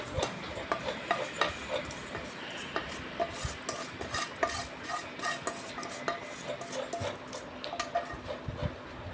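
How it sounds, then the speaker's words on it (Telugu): Jaggery is stirred in water in a pan to dissolve it, a continuous close scraping and swishing of a spoon against metal with faint sizzle-like texture, steady and unbroken, no voices. "బెల్లం అయితే ఇలా కలుపుకుంటూ వాటర్ పోసి అయితే కరిగించుకుంటున్నాను"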